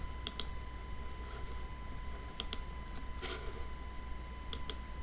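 Computer mouse clicks while working in a SageMaker notebook, heard as three quick double-click pairs spread over a few seconds, crisp and close against a quiet background hum.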